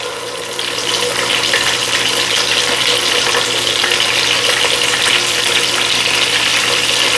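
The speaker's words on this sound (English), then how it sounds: "And to sear off that fat cap that's on the edges as well." Pork chops sear in a hot frying pan, fat cap edges browning, giving a steady, loud, dense sizzle that holds unbroken throughout with no talking.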